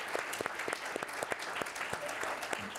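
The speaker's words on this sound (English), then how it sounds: "join me in a round of applause to welcome our panelists" Audience applause at an energy overview panel session, welcoming the panelists: a steady, moderately loud spread of clapping from a seated crowd throughout, with a few sharper individual claps standing out.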